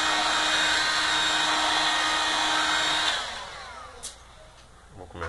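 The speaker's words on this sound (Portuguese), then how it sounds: "otimizar também a utilização do secador de cabelo" A hair dryer blows a loud, steady whoosh while heating the touchscreen of a Galaxy Tab P1000 tablet during a touch-panel replacement, then switches off after about three seconds, leaving faint handling noises.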